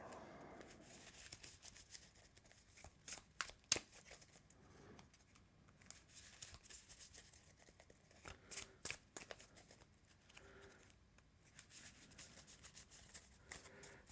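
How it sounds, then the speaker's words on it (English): Playing cards shuffled by hand at a tabletop game of Marvel Champions, quiet papery riffles and soft taps in short bursts, close and faint with no talk. "All right, that's shuffled up."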